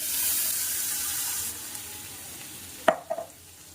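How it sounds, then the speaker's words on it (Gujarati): Under half a spoon each of mustard seeds and cumin sizzles in hot oil as a bright hiss that fades after the flame is turned off, followed by a couple of sharp utensil clinks. "હવે ગરમ થઈ ગયું છે એટલે અડધી ચમચીથી ઓછી એટલી રાઈ અને હવે અડધી ચમચીથી ઓછું એટલું જીરું નાખી દીધું છે"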